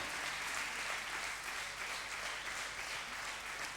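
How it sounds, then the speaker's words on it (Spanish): Church congregation applauding during a revival sermon, a steady, dense wash of many hands clapping, moderately quiet and continuous across the clip. "Vamos, aplauda."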